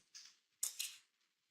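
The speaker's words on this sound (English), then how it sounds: "Nothing there yet, so let's shuffle it again." Two quiet, brief papery riffles of a deck of tarot cards being shuffled, the second burst louder and doubled, in an otherwise quiet room.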